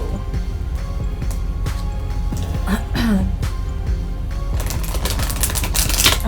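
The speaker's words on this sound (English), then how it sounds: "now I'm doing the real shuffle here" Tarot cards are shuffled by hand in a series of quick riffling, clicking bursts that come in clusters, close and fairly loud over a steady background hum.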